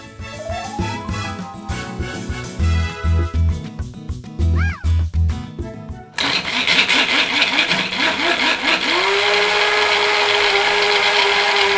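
A mini prep food processor grinds nuts with coconut oil, first in short stop-start pulses and then in one steady, loud, continuous whirring run.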